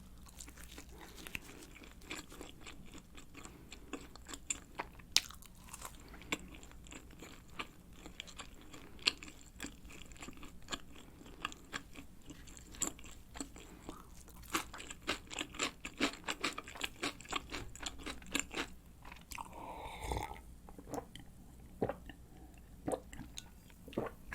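Eating Pizza Hut Ultimate Cheese Pocket pizza, with a cheese-filled pocket edge crust: close, repeated crunchy bites and chewing sounds in irregular bursts, with no talking.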